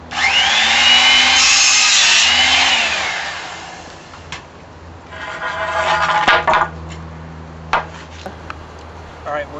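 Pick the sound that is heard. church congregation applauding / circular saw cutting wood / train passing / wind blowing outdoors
circular saw cutting wood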